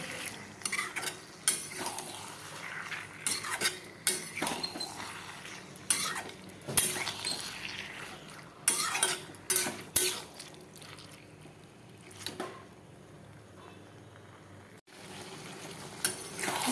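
Liver, gizzard and neck curry with potatoes is stirred and sautéed in a pan: repeated scraping and clinking spoon strokes over a faint sizzle, in irregular bursts that quiet toward the end.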